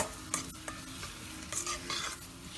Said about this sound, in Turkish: Kaşıkla karıştıracağım.